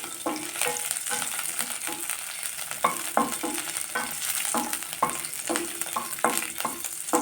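Green chillies frying in a pan for coriander chutney, a steady close sizzle broken by repeated scraping stirs of a spoon against the pan.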